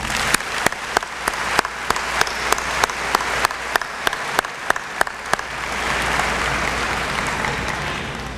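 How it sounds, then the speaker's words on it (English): At a high school graduation ceremony, a crowd's applause opens with sparse, slow, loud individual claps before swelling into broad, steady clapping that fills the hall. "Please give them a round of applause."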